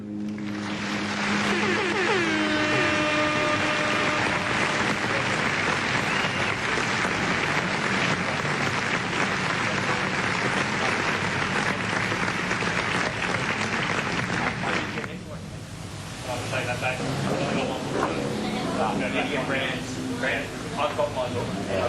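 Loud, sustained crowd cheering and applause at Carina Speedway after a junior sedans feature race final, with a brief dip before the roar picks up again; a loud announcer-style voice seems mixed in.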